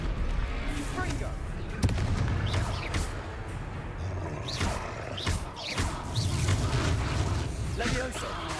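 A Confringo blasting spell from Hogwarts Legacy, with booming explosive bursts and crackling impacts in a busy battle. Combat noise and shouted casting run throughout.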